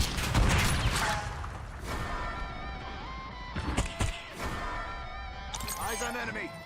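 Flashbang grenade going off in a Call of Duty Black Ops 6 match: sharp, cracking bangs come early and again midway, layered with ringing tones and clattering game noise.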